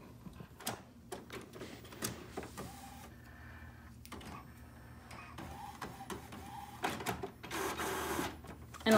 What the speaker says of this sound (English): I put some cardstock in my printer